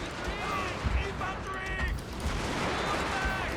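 Guns and artillery firing in Total War: Fall of the Samurai, scattered booms and shots rolling under a busy battlefield din with shouting and whistling tones, loud and steady throughout.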